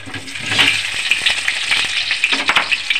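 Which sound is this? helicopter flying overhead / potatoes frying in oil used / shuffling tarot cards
potatoes frying in oil used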